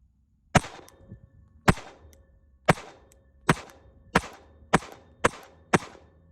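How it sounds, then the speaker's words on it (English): Eight sharp gunshots from a Sig Macro 9mm pistol firing low-velocity jello shot ammunition, evenly spaced about half a second apart. Each crack is loud and short, with a brief ringing decay and no talking. "When I shot the Sig Macro, I did use the jello shot, so it did minimize recoil a lot."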